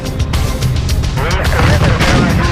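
Tank cannons fire at targets on a firing range during a tank crew shooting event: heavy, booming blasts and rumbling impacts under a continuous voice of commentary.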